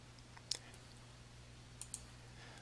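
A computer mouse clicks in QuickBooks accounting software: one crisp click, then two more in quick succession, faint and close over a low steady hum, with no voices.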